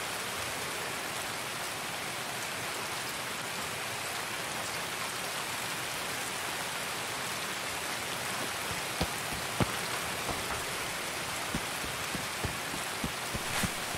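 Rain in the video game Escape from Tarkov, a steady, even hiss of rainfall on surfaces that fills the whole stretch, with a few sharp droplet ticks and taps near the end and no voices.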